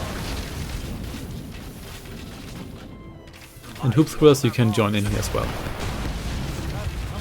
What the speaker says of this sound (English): Almost a synchronized explosion here.